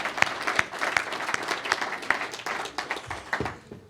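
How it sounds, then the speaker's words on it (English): Audience applause at the East Palo Alto Digital Village 2003 anniversary review, a short burst of crowd clapping with distinct individual claps over the general patter, moderately loud and without speech. "And I think that deserves a round of applause."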